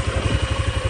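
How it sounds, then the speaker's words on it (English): A 2007 PGO BR500 buggy engine idles steadily after coming off a lorry, a close, even low thudding pulse repeating several times a second with a slight mechanical clatter on top. "Seems to be ticking there,"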